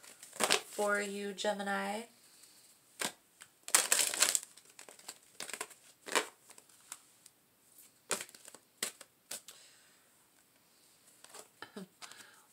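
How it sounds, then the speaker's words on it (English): Tarot guidance cards are handled and pulled in short, crisp rustles, flicks and snaps, scattered irregularly and close, after a brief spoken phrase at the start. "So let's pull a couple guidance cards"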